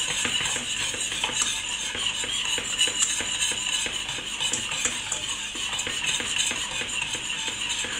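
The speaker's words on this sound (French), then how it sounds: "je vais continuer à tourner au fouet et à l'incorporer" Soft butter being whisked into caramel for salted butter caramel, a steady rapid ticking of a metal whisk against the pan over a bright bubbling hiss, close and continuous throughout with no talking.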